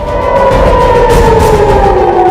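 A loud wailing air raid siren in Israel during a Hezbollah attack holds a long, slowly falling tone, steady and dominant over a low background rumble.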